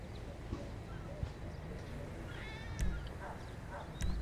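Cat meowing in the video game GTA Online, a couple of soft, short meows over a quiet ambient game background with a few faint thuds.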